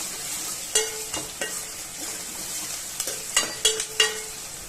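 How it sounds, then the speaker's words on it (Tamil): Chopped onion sautéing in a pan for egg gravy, a steady close sizzle broken by several sharp spatula stirs and scrapes against the pan. "ஒரு பெரிய வெங்காயம் கட் பண்ணி வச்சிருக்கேன், அதையும் இதில் சேர்த்துக்கலாம். நல்லா வதக்கிக்கலாம்."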